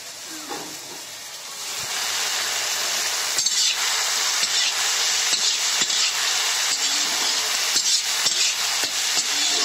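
Chopped cauliflower stalks land in a hot pan for a dry vegetable dish, a sudden sizzle rising and holding as a loud steady hiss, with occasional clinks and scrapes of stirring.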